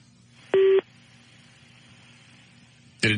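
A telephone call placed from a radio studio gives a short burst of bright dialing tones near the start, a quiet hum of line noise, then another tone sequence starting at the end.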